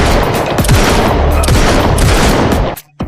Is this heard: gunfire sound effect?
yes